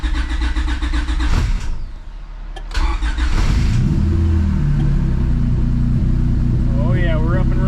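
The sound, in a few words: stroker V6 Honda Civic engine starting up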